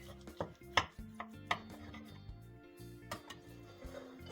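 A knife slicing through a cooled baked cabbage casserole, giving a handful of quiet, irregular taps and thuds against the board or dish, faint and close.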